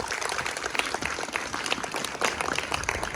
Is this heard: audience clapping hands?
yes